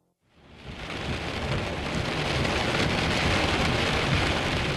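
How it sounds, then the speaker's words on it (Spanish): A violent thunderstorm fades in quickly and then holds as a loud, dense wash of heavy rain and rumbling thunder, steady and close, with no voices. "Probablemente fue después de medianoche cuando comenzó la tormenta."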